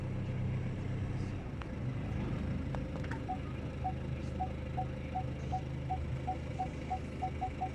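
A Ford Fiesta Titanium idles in reverse during automatic parking, its low engine hum steady beneath a series of evenly spaced parking-sensor beeps that gradually quicken, with a couple of faint clicks earlier.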